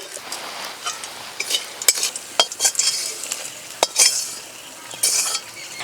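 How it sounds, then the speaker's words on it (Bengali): Spices frying in a pan, a steady hissing sizzle up close, broken by repeated stirring scrapes and clinks of a metal spoon against the pan. "ভাজার সময় খেয়াল রাখতে হবে কোনোভাবেই যেন মশলা পুড়ে না যায়"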